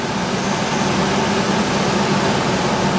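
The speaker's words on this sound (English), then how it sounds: "Notice the engine responds very quickly, smoothly." A car engine idling during an idle air control valve test, a loud steady drone with a low hum underneath, holding fairly constant through the brief stretch with no voices.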